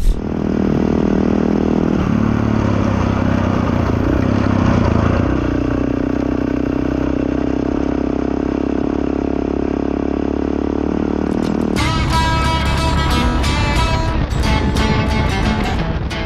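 Motorcycles riding along a road in Ethiopia, a steady loud engine drone with shifting tone throughout, joined near the end by a brighter, busier layer of clatter and rattle.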